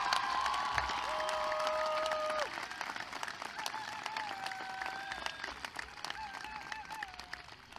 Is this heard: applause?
yes